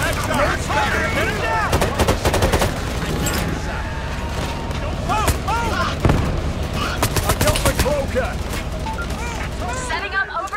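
Rapid gunfire from the video game Payday 3 rattles in dense, overlapping bursts throughout, loud and continuous, mixed with game effects and shouted voices.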